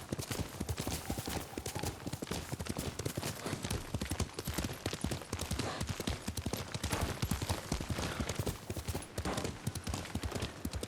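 A horse gallops at speed in a video game set in feudal Japan, with rapid rhythmic hoofbeats pounding close and loud without a break.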